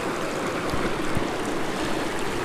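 A brook trout stream flows steadily, a constant rushing wash of water close by with a couple of faint low knocks, no talking.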